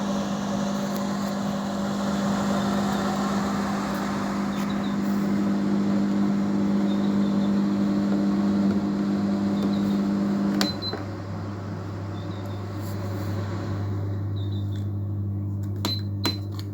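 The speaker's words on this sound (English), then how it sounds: "The motor run now. But there's something wrong with this big motor." A big motor in a faulty Sunbeam evaporative cooler runs with a steady drone and hum, then the pitch drops into a deeper, louder hum partway through, with faint clicks and rattles on top.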